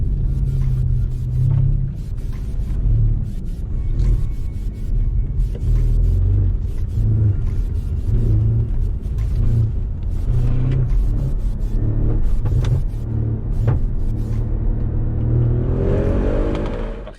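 An Audi RS6 quattro accelerates hard, its deep engine rumble loud and close, rising and falling through repeated revving pulls for the whole stretch.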